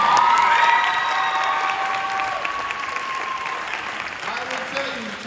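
A crowd applauds steadily at a middle school cross-country team awards ceremony, with some cheering and shouts mixed in, the clapping fading slightly toward the end.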